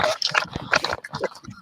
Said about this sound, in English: Sounds like a balloon animal.